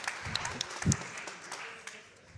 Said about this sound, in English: Clapping for chocolate chip muffins.